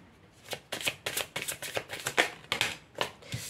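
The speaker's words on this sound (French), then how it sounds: "Je vais tirer une dernière carte." Tarot cards are shuffled and drawn from a deck, giving a run of quick, close papery riffles and flicks that come in an irregular rhythm, with no one speaking.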